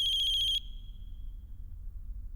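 A phone ringtone plays a loud, pulsing high electronic tone close by for about half a second, then cuts off, leaving a quiet room with a low background rumble.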